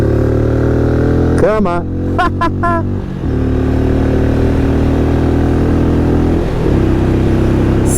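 Benelli Imperiale 400 motorcycle engine running steadily while riding, a constant droning hum with a brief rise and dip in pitch, loud and close, with a voice speaking briefly over it.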